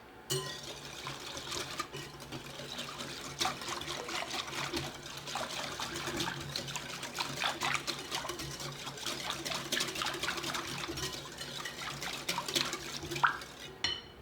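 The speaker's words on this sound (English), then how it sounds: "I'm just going to come over here with the whisk." Vanilla pudding mix and milk are beaten by hand with a whisk in a bowl. Fast, steady liquid swishing and light rattling clicks continue without a break for the whole stretch, fairly quiet and close, with no talking.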